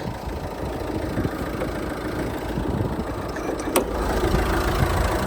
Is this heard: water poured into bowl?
no